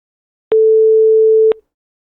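A single steady synthesized 8 kHz tone sounds for about one second, clean and loud, starting and stopping abruptly with silence around it.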